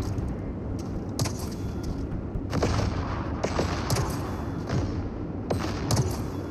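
Slow-firing weapon in the game Terrate, discharging several spaced, thudding shots over a steady ambient game bed, each blast followed by a short rumbling tail.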